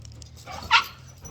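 A dog gives a single short, sharp bark, fairly close, over a low steady background hum.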